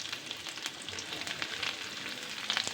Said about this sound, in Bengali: রসুন কুচি দিয়ে দিলাম